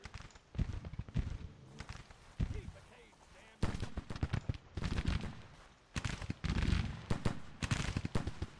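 Artillery from howitzers and 3-inch guns, plus rifle fire, in a Civil War battle in Grand Tactician: bursts of irregular popping volleys and dull booms come and go in clusters at moderate loudness, with quieter gaps between them.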